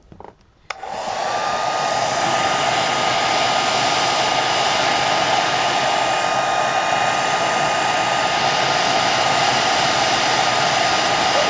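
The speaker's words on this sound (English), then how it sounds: "Use a hair dryer on the cool setting." A hair dryer on the cool setting switches on and runs steadily at a loud, even whir, a constant airy roar with a faint high whine and no talking.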